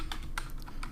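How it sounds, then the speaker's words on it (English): Close, quick keystrokes on a computer keyboard while entering code, a few crisp taps in an uneven rhythm with no voices. "So let's type import"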